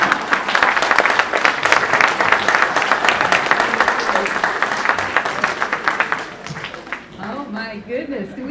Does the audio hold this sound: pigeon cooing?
no